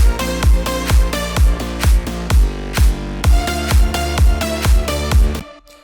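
Electronic dance music drop playing alone and loud, with a steady four-on-the-floor kick thumping under pulsing synth chords and bass, before extra layering is added; it cuts off abruptly near the end.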